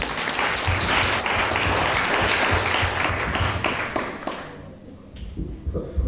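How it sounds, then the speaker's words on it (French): Church congregation breaking into loud, dense applause that holds steady, then thins out and fades toward the end. "On va applaudir."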